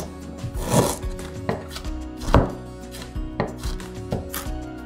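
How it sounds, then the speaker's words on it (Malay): Peeled fresh ginger being coarsely sliced with a knife on a board, a brisk run of irregular close chopping strikes, loud and alone with no talk. "Halia, ni Cik Nom dah buang kulit, iris kasar."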